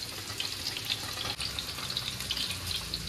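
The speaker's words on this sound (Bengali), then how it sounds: "জলটা আমি রেখে দিয়েছিলাম 1 বাটি, ওটা একটু দিয়ে দিলাম" Reserved pasta water hits a hot frying pan of red sauce chicken pasta, giving a steady, soft hissing sizzle with faint watery bubbling and no voices.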